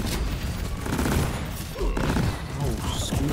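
Sustained gunfire and booming weapon bursts from the co-op shooter game Deep Rock Galactic, a dense loud barrage of shots and impacts running throughout with brief voices mixed in.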